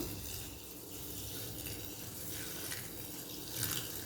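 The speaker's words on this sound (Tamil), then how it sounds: "இப்போ இதில் கொஞ்சமாக தண்ணி சேர்த்துக்கலாம்." Water pours in a steady, rushing stream into a cooking pot of vermicelli, a continuous splashing that swells slightly near the end.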